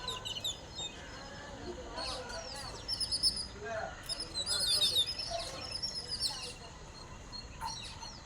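Sparrows chirp and twitter in a village at dusk, a loose scatter of small high calls swelling and fading over a steady outdoor hum, moderately close.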